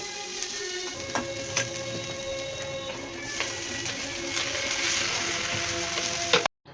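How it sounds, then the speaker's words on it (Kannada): Onion and tomato fry in a pan with curry leaves, giving a steady close sizzle broken by occasional scraping and stirring clicks before cutting off abruptly. "ಅದನ್ನು ಸ್ವಲ್ಪ ಫ್ರೈ ಆದಮೇಲೆ ಟೊಮೊಟೊನ ಕೂಡ ಹಾಕ್ಕೊಂಡು ಫ್ರೈ ಮಾಡ್ಕೊಳ್ತೀನಿ"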